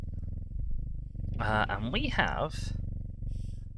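A cat purring close up with a steady low rumbling rhythm, joined partway through by a person talking over it.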